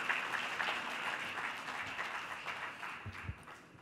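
Audience applause at the opening session of a Reviving Karachi dialogue, steady dense clapping from a crowd for several seconds, fairly faint and thinning toward the end.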